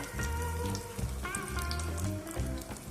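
Cashews and coconut fry in hot ghee for rice kheer, giving a soft, steady crackling sizzle with scattered pops and no one talking.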